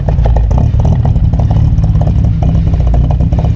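A loud Proton Saga engine with a high-lift 288 cam revving hard with a choppy, lumpy idle rhythm, close by, steady throughout with no voices.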